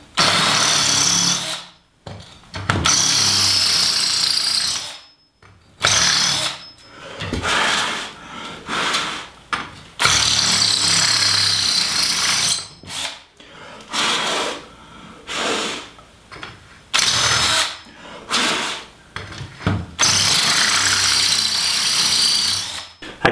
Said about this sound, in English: So I've got a 3/8 masonry bit now to make this hole the finished size.